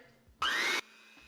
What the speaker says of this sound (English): especially because I'm using our hand mixer